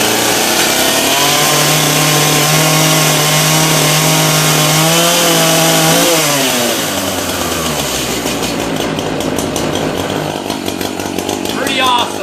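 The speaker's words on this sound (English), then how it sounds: "Once it starts like that, push your choke in, and it should start on the next pull." An Echo CS-590 chainsaw runs loud and close, holding a steady high drone, then revs up and drops away as the engine note shifts, with crackling mechanical noise continuing underneath.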